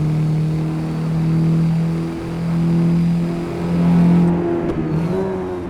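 A Mazdaspeed3 hatchback engine revs up steadily and loudly, rising in pitch through several quick short-shifted gear changes, with brief dips between each shift.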